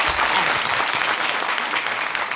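A seated audience at a motivational talk bursts into dense, continuous applause for the event's organizer: a loud, even roar of many hands clapping with no clear breaks.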